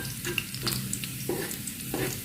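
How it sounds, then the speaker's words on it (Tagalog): Food browns in a frying pan with a steady close sizzle, while a utensil stirs and scrapes it in a few distinct strokes over the crackle. "Brown na natin konti para mabango."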